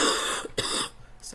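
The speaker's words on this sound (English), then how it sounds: "I'm almost like about to cough it out" A person with a cold coughs and clears their throat, a couple of short close rough bursts with no speech.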